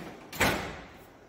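A paper-loading door on an HP DesignJet XL3600 large-format printer closes with a single firm thud, near and fairly loud, then settles into quiet mechanical hum.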